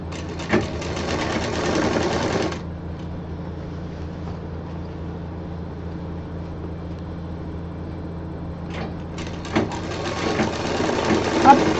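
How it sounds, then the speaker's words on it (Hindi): An electric sewing machine stitches around the full circumference of a DIY expandable fabric bag, running in loud continuous bursts at the start and end with a quieter steady hum between. "अब इसको पूरा गोलाई से सिल देंगे।"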